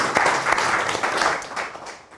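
Applause from an audience at a fireside chat, a dense steady wash of many hands clapping that fills the moment and tapers slightly toward the end.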